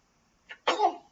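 A single close sneeze, a short sharp inhale catch followed by an explosive burst, during a football match watchalong at home.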